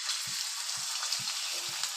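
Pakoras being dropped one at a time into hot oil at medium heat, giving a steady faint sizzle with four soft, evenly spaced thumps as pieces go into the pan.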